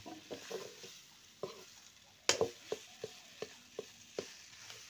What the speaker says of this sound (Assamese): অলপ ভাজি লোৱাটো ভাল